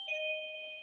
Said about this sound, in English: someone's ringing our doorbell.